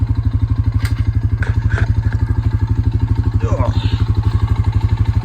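A Rancher ATV engine idles close by with a steady, even chugging pulse, and a few faint knocks and clatters sit over it.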